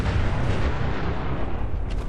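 A very large explosion in the Fallout 4 video game, a dense rumbling blast with heavy low booming that rolls on steadily throughout, loud and alone.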